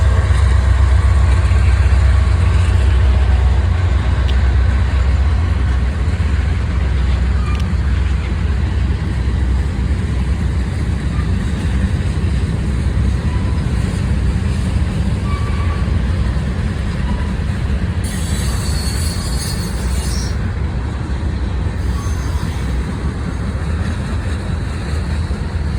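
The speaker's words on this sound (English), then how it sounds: "came a westbound Norfolk Southern manifest train" A heavy, steady low rumble of a passing westbound Norfolk Southern manifest freight train in Berea holds for the whole stretch, loud and continuous, with a faint brief hiss near the end.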